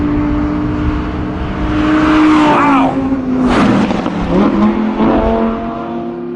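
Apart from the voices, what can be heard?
Audi R8 V10 plus accelerating on a race track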